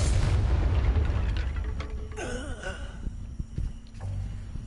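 A Confringo explosion spell goes off in a game, a loud booming blast with a rumbling tail and a brief whooshing sweep after it, and a few smaller thuds.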